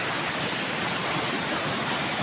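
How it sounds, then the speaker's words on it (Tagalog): Steady, loud rush of a waterfall at Busay falls, a continuous broadband roar of falling water with no voices over it. "nandito na kami sa sa Busay. Yan yung falls, medyo lumiit siya ng konti"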